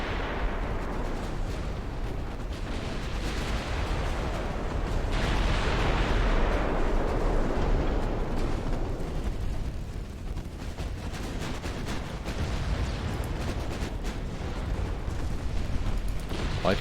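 Naval video game battle with secondary guns firing at a destroyer: dense, continuous rumbling gunfire and booming blasts overlapping throughout, loud and sustained with no clear gaps.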